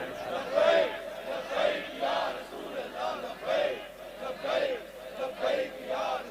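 A religious gathering crowd chants slogans in unison, rhythmic shouted calls repeating about once a second, loud and steady throughout.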